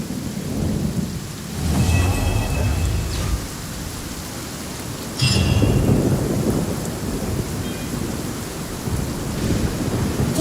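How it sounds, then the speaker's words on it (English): Thunder and heavy rain in the video game Genshin Impact: two deep rolling thunder rumbles, the second stronger, over a constant loud hiss of falling rain. "know that the sound of thunder is the prelude to new life?"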